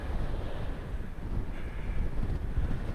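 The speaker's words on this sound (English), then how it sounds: "Very windy down here." Strong wind buffets the microphone in a steady low roar at Cruden Bay harbour, Scotland, with a faint wash of water in the background and no voices.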